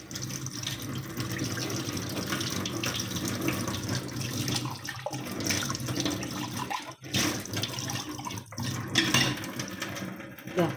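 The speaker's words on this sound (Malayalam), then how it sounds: "നമുക്ക് പൈപ്പിലെ വെള്ളം ഒഴിച്ച് തന്നെ ഒന്ന് വാഷ് ചെയ്തെടുക്കാം" Running tap water pours and splashes steadily into a toilet bowl as it is rinsed, with a few brief pauses and gurgles.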